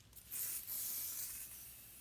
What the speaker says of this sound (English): I'm just going to use some bottled spray water.